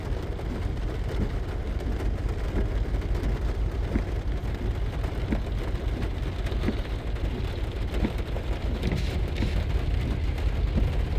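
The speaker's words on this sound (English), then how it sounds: "but it's raining." Steady rain falls outside during a chase of an SD40-2 locomotive, a constant dense hiss with scattered drop taps and low rumble underneath, no speech.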